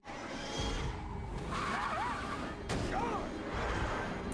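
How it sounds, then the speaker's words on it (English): In a Star Trek: Picard episode, a car roars up with a rising tire squeal and whooshing engine noise as it strikes a man, the rumble loud and sustained with brief squeals repeating. "He's been hit by a car."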